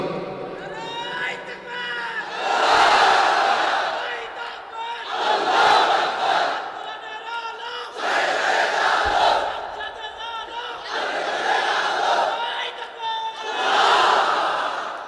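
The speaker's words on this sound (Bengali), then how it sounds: "তাকবীর পড়েন তো দেখি, আল্লাহর নামে পড়েন, লিল্লাহে তাকবীর" A large crowd at a Ramadan religious gathering in Khulna shouts takbir in unison, with five loud, swelling chants about every three seconds filling the space.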